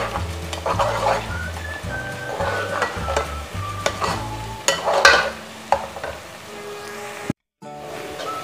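Onions frying to light brown in a pan, with constant close sizzling, a steady low bubbling rhythm and sharp clinks and scrapes of a utensil stirring against the metal, then a brief silent gap near the end.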